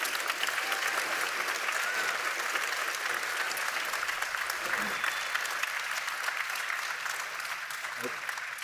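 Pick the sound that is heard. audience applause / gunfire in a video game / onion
audience applause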